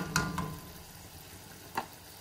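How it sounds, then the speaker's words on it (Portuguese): Potatoes fry in a pan for spicy Portuguese-style pork, a low, steady sizzle broken by a few sharp clicks of a utensil near the start and once more later. "Estou fritando as batatas."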